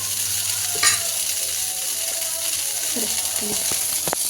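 Cooked rice fries in a pan with coriander leaves to crisp the underside, giving a steady soft sizzle with occasional scraping and clinking stirs close by.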